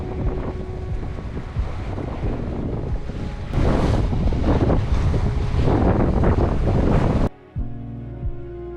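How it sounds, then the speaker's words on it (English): Open-ocean swell and wind rushing past a sailboat under sail with no engine, a loud continuous wash of water and gusts buffeting the microphone before it cuts abruptly to quieter low tones. "no engine, just the sound of the ocean and the movement of Te Taiko carving gently"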